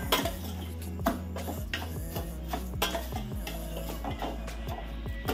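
Vermicelli for jackfruit payasam is stirred and fried in a pan, a spoon repeatedly scraping and clinking against the metal in an uneven rhythm over a soft low sizzle, close up.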